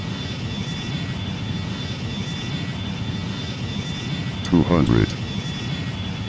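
Steady airplane engine drone from a flight video game during a landing approach, a continuous hum with a high whine, while a synthetic callout voice speaks briefly near the end.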